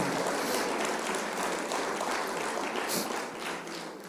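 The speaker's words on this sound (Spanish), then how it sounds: "Dale palmas al Señor" A church congregation in Bogotá, Colombia claps for the Lord in a sustained, dense wash of many hands, steady and fairly even throughout, rising slightly near the end.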